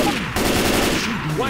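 Continuous gunfire from the video game Left 4 Dead 2, a loud dense burst of rapid shots filling the short stretch.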